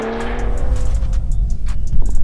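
A 650 bhp BMW M140i, a 590 bhp M2 and a 580 bhp M3 Competition pull hard from a rolling start at about 50 mph, engines roaring loud and close in a continuous rising surge with no talk.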